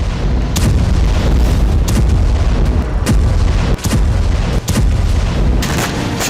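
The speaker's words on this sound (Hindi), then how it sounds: "गवाह है गाजा में भीषण बमबारी की ये तस्वीरें।" Heavy bombardment in Gaza: a continuous, loud roar of explosions and booming blasts, with sharp impacts recurring every second or so over a rumbling low din, no voices.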